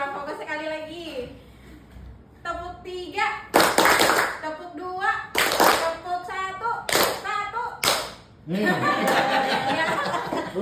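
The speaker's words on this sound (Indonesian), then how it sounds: "Tepuk 3, tepuk 2, tepuk 1." A group of adults claps a counted pattern of three claps, two claps and one clap in sharp bursts, with a leader speaking between them and some laughter and chatter around.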